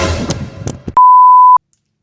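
A new phone lets out a single steady electronic beep lasting about half a second, loud and clean, right after some speech, then silence.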